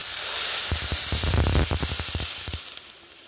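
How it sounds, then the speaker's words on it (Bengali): Water poured into a hot pan for potato pulao bursts into a loud hissing sizzle with rapid crackles, then dies down over a couple of seconds. "এখন এর মধ্যে দিয়ে দিচ্ছি জল"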